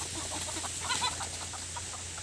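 Several chickens clucking on a farm, a loose series of short, close clucks and chatters over a low steady background hum.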